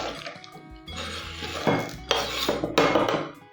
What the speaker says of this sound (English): And they get tipped in the bowl.